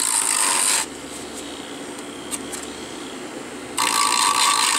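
Hand sanding of a hardened super glue and baking powder gap filler on a model, with two bursts of harsh, close rasping scrapes separated by a quieter pause holding a faint ticking.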